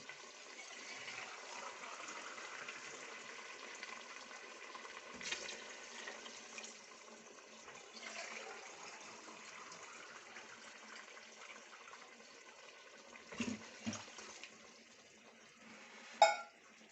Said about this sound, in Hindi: तो 2 गिलास पानी में दूसरा शामिल करती हूँ।